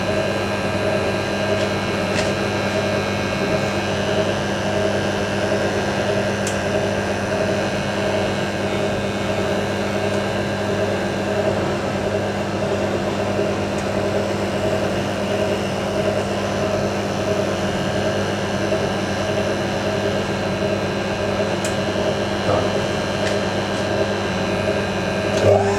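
A vintage 1980s Hotpoint washing machine hums and whirs steadily through its final spin, a constant loud mechanical drone with a faint rattle, unchanging throughout.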